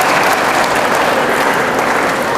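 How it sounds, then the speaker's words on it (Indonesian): A crowd of participants at a university student character-building session claps loudly and continuously, a dense wash of applause that holds steady from start to finish with no speech over it. "Tepuk tangan untuk kita semua."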